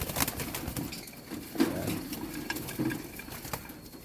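Hungry pigeons in a loft coo and shuffle nearby, with soft patter and occasional bursts of wing flapping over a steady busy background.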